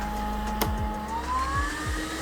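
A HYLA vacuum cleaner runs with a steady motor hum, and its whine climbs in pitch as it shifts into high gear. The sound is close and continuous, with a few faint clunks and no talking.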